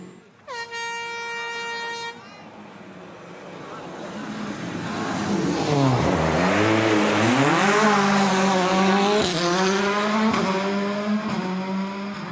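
A rally car on a hairpin at the 2014 Monte Carlo Rally follows a loud air-horn blast, its engine revving up and down in repeated sweeping surges, close and loud.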